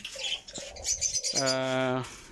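Budgerigars chirp and twitter close by, a quick burst of tweets ending in a sustained, buzzy warble.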